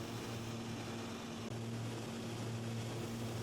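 A small sightseeing plane's propeller engine drones steadily while circling Mount McKinley in Alaska, a loud, constant hum with a low tonal whine throughout, no voices.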